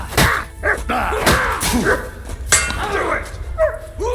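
Dog barking in the medieval action game Kingdom Come: Deliverance II, several sharp barks and yelps scattered through a noisy fight scene with shouting voices over them.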